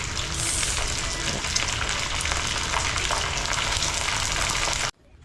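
Dried squid fries in a pan of oil during a breakfast cook in Pagudpud, a loud, dense, continuous crackling sizzle that stops suddenly near the end.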